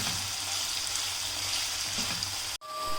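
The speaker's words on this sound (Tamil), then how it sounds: "இப்போ சிக்கன் வந்து இது ஃபுல்லாக இதில் வேகணும்." Chicken pieces fry in a pan before spaghetti noodles are added, producing a steady, quiet sizzle that cuts off abruptly near the end.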